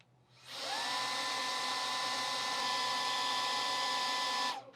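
A Wolfbox MF100 electric air duster with a nozzle fitted, running at level 3, spins up quickly into a loud, steady high-pitched whine and rush of air, then cuts off after about four seconds.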